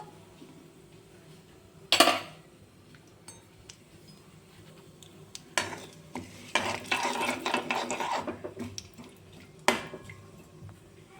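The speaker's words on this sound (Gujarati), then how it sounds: "આ બધા ખડા મસાલાને આપણે સાતળી લેશું 2 મિનિટ પૂરતું" Whole spices being sautéed in a pan for Kathiyawadi-style ganthiya curry: a spoon stirs and scrapes against the pan in bursts, with a sharp clink near the start, a longer stretch of scraping and sizzle in the middle, and one more clink near the end.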